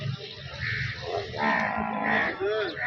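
Water buffalo at a busy livestock market in Arifwala give low moos and grunts within a steady crowd din, with a rising call near the end.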